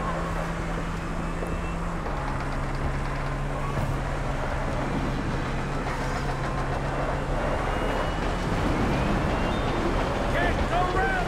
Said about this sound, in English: Can't go around the train,